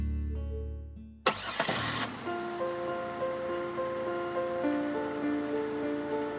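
A car engine starts with a sharp crank, then settles into a steady hum with a faint tonal whine, close by, alone with no voices.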